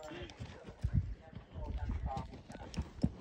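Horse hooves clip-clop at an uneven pace on a rocky, uphill mountain trail during an endurance ride, close by and moderately loud, with voices talking over the footfalls.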